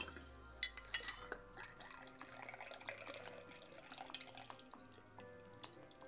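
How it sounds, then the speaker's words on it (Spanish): Sixty millilitres of Jim Beam bourbon pours into a cocktail shaker, a quiet trickling and splashing stream that runs for several seconds close by, with no talking over it. "Después vamos a necesitar 60 mililitros de nuestro bourbon de elección."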